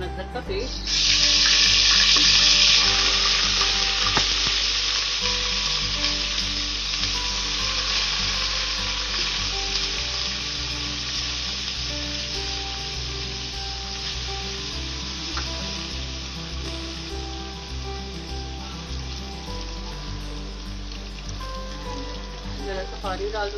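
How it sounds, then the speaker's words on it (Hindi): Ginger garlic paste frying in hot oil with cloves, cardamom and black pepper, a steady loud sizzle that goes on throughout with faint stirring, no talking. "इसमें डाल दूंगी मैं लहसुन अदरक का पेस्ट।"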